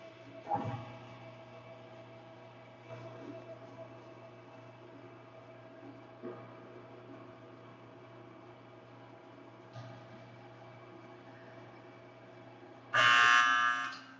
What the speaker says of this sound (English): that's the alarm that let us know that the mixing is done